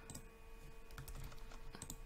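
Typing on a computer keyboard while entering a math equation, quiet scattered key clicks over a steady low electrical hum, with no talking.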